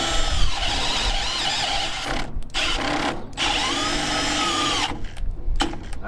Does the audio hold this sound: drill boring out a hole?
yes